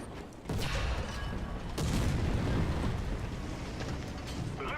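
Enemy tank gunfire in War Thunder ground battles, heavy booming shots and rumbling blasts arriving at moderate volume, one strong hit early and another midway over a constant battlefield roar.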